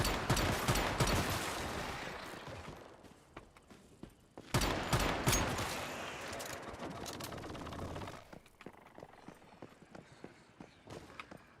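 Gunfire in the video game 7 Days to Die as players shoot at mobs, dense rapid bursts of shots in two loud volleys, then sparser scattered pops and clatter.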